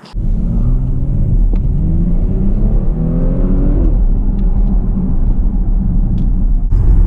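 A Porsche Panamera driving on the road, a loud steady interior rumble of engine and tyres with a rising engine note as it accelerates, then a continuous cruising drone.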